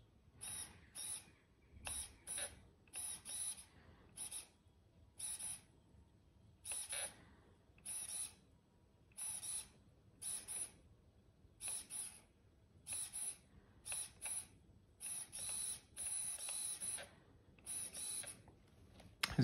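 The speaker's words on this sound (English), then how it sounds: "the servo is a little bit slow, and also sometimes occurs some double centering" JX DPI DHV56MG high voltage micro servo running on 3.7 volts, sweeping back and forth in a string of short, sharp whirring bursts separated by brief pauses, close and fairly quiet.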